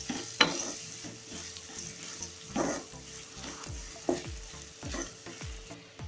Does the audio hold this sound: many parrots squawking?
no